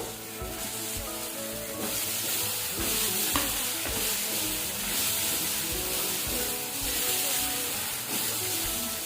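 Potatoes drop into a hot frying pan and sizzle steadily, a dense, continuous frying hiss with light stirring clatter throughout, fairly loud and close, with no voices.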